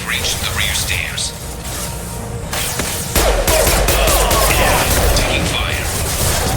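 Gunfire in a firefight in the video game Mass Effect 2, dense crackling shots rolling under battle noise, growing heavier and louder partway through, with voices speaking over it.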